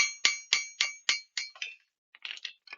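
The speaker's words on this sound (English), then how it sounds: "tap it with my hammer." A hammer taps a cut copper ring in a series of about eight bright metallic clinks at a steady rhythm, each ringing briefly and fading, then a few quicker, softer taps close up.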